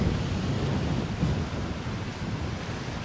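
Strong wind and breaking surf on the shore at Lerwick, Shetland, a steady loud roar of gusts and waves filling the air without pause.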